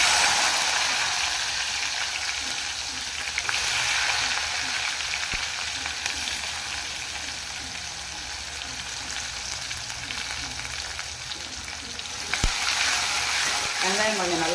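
Onions frying in oil in a pan for a bottle gourd and dal sambar, a steady close broadband sizzle throughout with faint background music or voice underneath and a brief clatter near the end.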